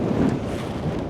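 Wind buffets the microphone on a boat out fishing for crappie on a Florida lake, a steady low roar with no gaps.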